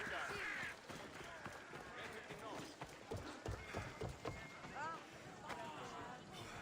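Horse galloping in Assassin's Creed Odyssey, quick rhythmic hoofbeats running under a busy game soundscape with a voice calling out and other speech mixed in.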